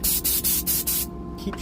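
A small handheld spray gun squirts in quick bursts, five sharp hissing sprays in a steady rhythm, close and loud, then a pause followed by a faint clatter.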